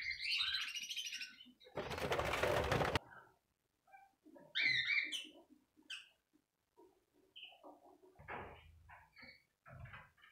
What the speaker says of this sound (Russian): Вот сейчас певчие перед вами.